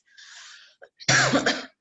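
A woman coughs several times in a short burst, with a faint breathy cough first and then a loud, harsh cough close to the microphone.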